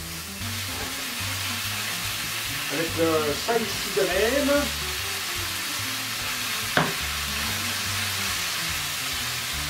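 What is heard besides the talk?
ground beef frying in olive oil in a pan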